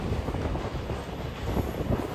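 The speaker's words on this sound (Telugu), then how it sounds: "ముంగట బ్రిడ్జ్లో ఇంకో ట్రైన్ వెళ్తుంది" Another train crosses a bridge ahead, a continuous low rumble and rattle of rail traffic mixed with wind buffeting, heard from aboard a moving train.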